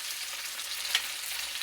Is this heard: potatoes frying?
yes